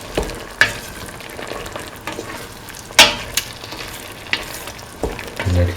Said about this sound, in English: After 30 seconds, scramble the eggs.